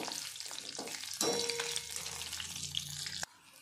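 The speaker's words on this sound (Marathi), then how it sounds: "आता छानपैकी ते आपण याला तळून घेऊ" Bhaji fritters and slit green chillies crackle and sizzle in hot oil, a steady close frying hiss that swells sharply partway through, with no talk.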